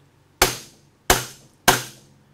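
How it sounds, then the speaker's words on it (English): A hammer strikes a gear shaft three times in a slow, uneven rhythm, each blow a loud, sharp, ringing metallic crack that fades quickly, heard close with no talking. "I can whack that with a hammer without destroying the threads"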